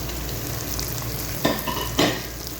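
Spices stirred into mutton handi sizzling in oil, a steady frying hiss with two sharper scraping strokes of the spoon against the pot, close and alone.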